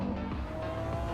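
Lamborghini Aventador SVJ Roadster with a 6.5-liter V12 giving a brief, loud exhaust rasp, a steady engine drone with a short pitch swoop near the start, heard close and alone.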